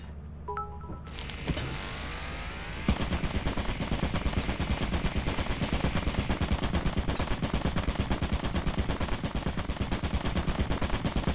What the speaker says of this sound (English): Well, I forgot about the turret.